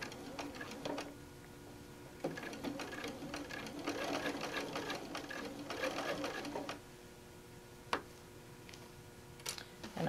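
Short runs of a sewing machine stitch a quilt-as-you-go tote bag, the close, rhythmic needle chatter stopping and starting between a few deliberate stitches, with someone talking in between.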